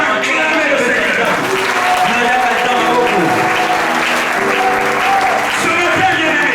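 A congregation at a Sunday worship and thanksgiving service applauds and cheers in a steady, dense roar, with voices and music woven through it the whole time.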